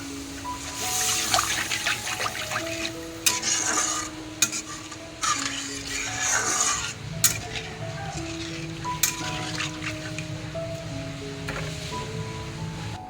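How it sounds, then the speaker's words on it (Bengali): Water trickles and splashes into a hot pan of fish curry base with garlic and turmeric, sizzling softly while a spoon stirs and scrapes close by. "এবার জল দিয়ে দেবো।"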